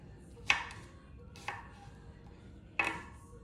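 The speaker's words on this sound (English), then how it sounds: "I'm cutting these in cubes" A knife chops fruit into cubes for a fruit salad, three close, crisp cuts onto a board, spaced unevenly over a few seconds against a quiet room.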